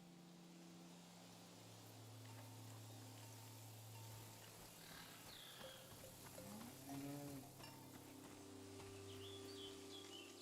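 A cow in Season: A Letter to the Future gives several low, drawn-out moos over a quiet outdoor ambience with faint birdsong.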